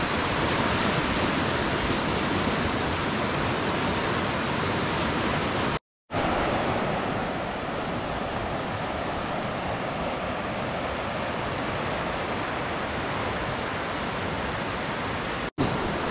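Rushing water of a mountain creek below a log jam near Ramshorn Creek on the Middle Fork Salmon, a loud steady broadband roar heard up close, with a brief dropout partway through.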